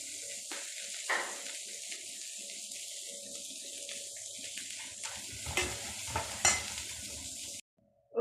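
Onions sautéing in a pan with chopped green chilli, garlic, ginger and curry leaves for a Kerala fish dish: a soft, steady sizzle with occasional scrapes of a spoon stirring, moderately close, before the sound cuts off abruptly near the end.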